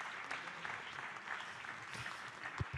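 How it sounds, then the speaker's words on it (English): A conference audience claps steadily at a natural history museum meeting, with dense sustained applause at moderate distance and a few louder nearby claps toward the end. "Round of applause, well deserved."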